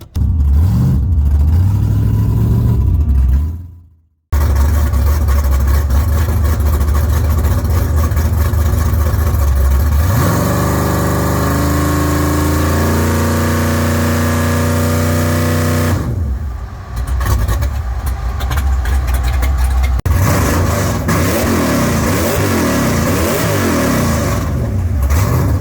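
A race car engine revs hard and loud, held loaded up on a trans brake, with repeated surging bursts, a brief cutout, sustained high-rpm howling and wavering rises and falls in pitch.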